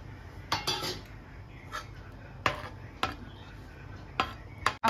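Butter-sautéed capsicum is tipped into a pan of creamy white sauce for pasta, with a spoon clinking and scraping against the cookware in a handful of sharp, close metallic taps.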